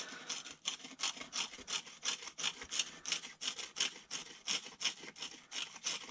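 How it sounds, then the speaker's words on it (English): A tool scrapes a channel into an RC car wheel from a 6S Arrma Typhon in repeated rhythmic strokes, about three per second, close and moderately loud with no talk. "I'm just going to scrape off a channel"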